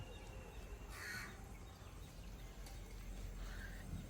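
Several crows caw in short bursts, a couple of calls close together then another later, over steady outdoor background noise.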